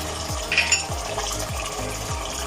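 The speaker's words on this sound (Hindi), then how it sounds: "अभी इससे हम अच्छी तरह फ्राई करेंगे।" Bay leaves, cinnamon sticks and black cardamom fry in oil in a pot, giving a steady close sizzle with a few scraping stirs of a spoon.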